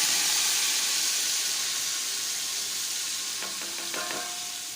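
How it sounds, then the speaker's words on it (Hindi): Spice masala frying in a pan of oil with light-brown cumin for curry pakora, a steady broadband sizzle throughout with a few brief stirring scrapes near the end, no voices. "ये मसाला भुन रहा है हमारा कड़ी का"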